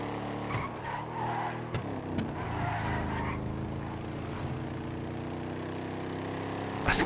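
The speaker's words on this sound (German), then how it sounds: "Was ein geiles Auto. Ist gepanzert," An armored, very fast car in GTA 5 drives with a steady engine drone and drawn-out tire skids, ending on a sharp, bright impact-like burst.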